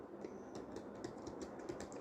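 Keystrokes on a computer keyboard while entering text in Photoshop, a quiet run of light, irregular clicks close to the microphone under soft room noise.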